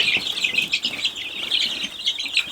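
Muscovy ducklings, some of them mallard mixes, peep continuously in a shrill high chorus, close and steady for the whole stretch with no talk.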